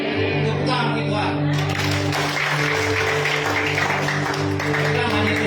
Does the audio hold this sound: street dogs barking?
no